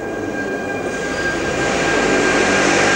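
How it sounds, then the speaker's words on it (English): A Budapest metro train from 1991 runs with a steady, loud rumble and a thin high whine that holds throughout, the roar swelling slightly about halfway through; no one speaks. "Never had long to wait for a metro here."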